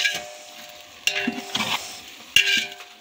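Black masala spice paste fries and sizzles in a pan, with bursts of stirring scrapes and clatter marking a couple of strokes of the spoon, close and fairly quiet.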